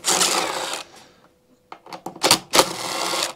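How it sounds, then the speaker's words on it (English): Impact driver with an extension on a 10 mm socket backing carburetor bolts out of a generator: a loud rattling burst, a pause, then several short hammering bursts close by. "on a reasonable extension on an impact. The first 2, remove your carburetor bolts."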